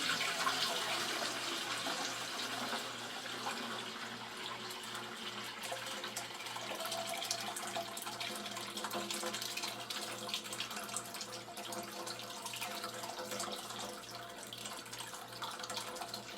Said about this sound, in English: I'm going to pour the whey and the curds through the cheesecloth.